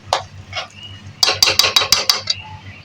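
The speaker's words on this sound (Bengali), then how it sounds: "এখন নাড়িয়ে নিচ্ছি একটু।" Spoon stirring cooked dalia khichdi in an opened pressure cooker: a few scattered scrapes, then a quick run of seven or eight rhythmic metallic clinks and scrapes, close and fairly loud.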